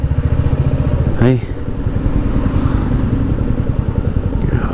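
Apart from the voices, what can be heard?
Royal Enfield Meteor 350 motorcycle riding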